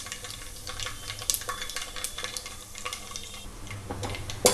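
Spices sizzling and popping in hot oil in a pot for a stuffed eggplant curry, with red chilies and cumin seeds among them, stirred now and then; a steady crackling fry with light scraping strokes and the occasional utensil clink.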